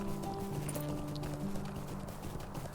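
Horse hooves clip-clop at a steady riding pace in the online game Lord of the Rings Online, a continuous rhythmic patter with soft tonal music held underneath.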